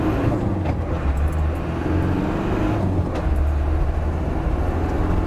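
A restored 1996 Land Rover Defender 90 pulling hard under acceleration on the road: a loud, steady engine drone mixed with road and wind noise, heard from inside the cabin without pause.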